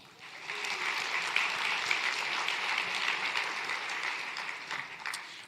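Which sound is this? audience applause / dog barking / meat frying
audience applause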